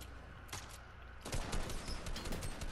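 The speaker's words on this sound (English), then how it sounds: "I hear more shots" Rapid bursts of gunfire in a shooter video game crackle loudly and continuously, one volley following another with no voices.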